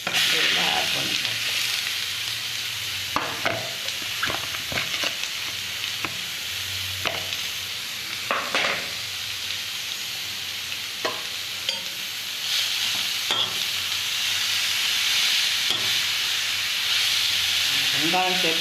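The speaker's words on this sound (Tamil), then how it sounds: "இப்போ பீட்ரூட் துருவி வச்சுருக்க பீட்ரூட்டை இதில் ஆட் பண்ணிப்போம்." Grated beetroot frying in a pan for beetroot poriyal gives off a steady, soft hissing sizzle. Scattered spoon scrapes and taps from stirring break through it now and then, close by with no talking.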